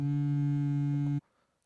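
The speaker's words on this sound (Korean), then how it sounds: "문자 왔다." A steady electronic tone sounds for just over a second and then cuts off sharply, leaving near silence. It is the text message notification in the indie horror game Overslept.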